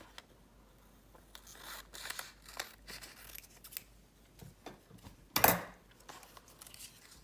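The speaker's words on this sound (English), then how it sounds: "So what I will do is I will cut this in half." Scissors snip through a round piece of paper to cut it in half, a string of quiet crisp cuts and rustles ending in one louder sharp snip, with no talking.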